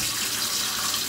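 Warm water runs from a kitchen tap for homemade pizza dough, a steady, close, loud rush with no pauses.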